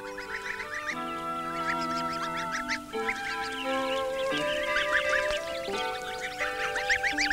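Newly hatched ducklings peep and chirp repeatedly over a steady tonal musical backdrop, a busy cluster of high little calls with no speech.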